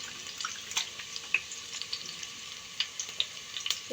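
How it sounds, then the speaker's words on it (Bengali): Onion, cinnamon, cloves and cardamom frying in a rice cooker: a steady bright sizzle close by, dotted with frequent small pops and crackles, with no voices. "এখানে পেঁয়াজ দিলাম, দারচিনি, লং, এলাচ দিয়ে সুন্দর করে একটু ভাজা ভাজা করে নিলাম।"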